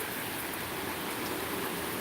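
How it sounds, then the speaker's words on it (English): A heavy rainstorm during Hurricane Florence pours down in a constant, dense hiss, a uniform wash of rain with no breaks and no voices. "it's just your typical heavy rainstorm"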